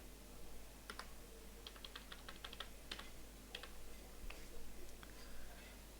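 Fingers tap out a URL on a computer keyboard in quick bursts of light, close clicks separated by short pauses, with a low steady hum underneath and faint talk in places.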